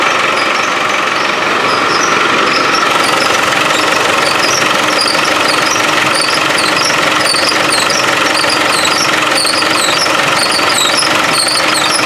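Land Rover Defender engine idling steadily with a continuous mechanical whir and high-pitched chirping squeals from a slipping belt and seized AC pump repeating throughout, close and loud.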